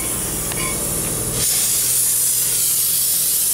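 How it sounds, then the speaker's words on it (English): Brake cleaner sprayed onto a brake rotor of a 2000 Jeep Grand Cherokee, a steady loud aerosol hiss that rises in force about halfway through and continues unbroken, with no talking. "Clean the grease off the rotors with a brake cleaner."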